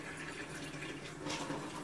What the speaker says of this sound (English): I'm getting ready to add some water to this.